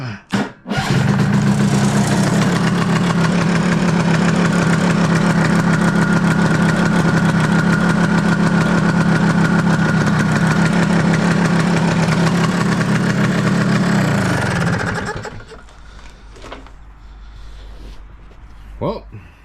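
Vespa-style Stella scooter engine kicked into life and held at a steady, buzzing idle for about fifteen seconds, close and loud, then cut off into near-quiet room sound.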